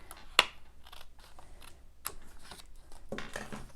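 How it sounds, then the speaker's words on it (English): Scissors cutting card for handmade card-making, a few sharp snips with a crisp clip near the start and soft cutting rustles spread through, close and fairly quiet. "I'm going to just use my scissors."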